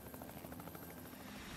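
A helicopter flies over a gold-mining site in the Klondike, a steady rotor chop and engine drone holding loud and continuous throughout with no speech.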